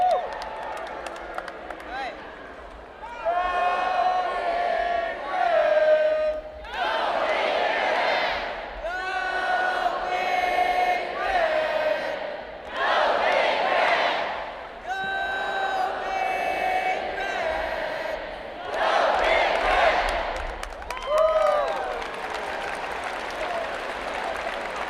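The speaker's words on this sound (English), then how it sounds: "lead the Go Big Red cheer" A large crowd of new students at a university convocation in Nebraska chants the Go Big Red cheer, voices rising in several loud, repeated shouted bursts with short dips between them.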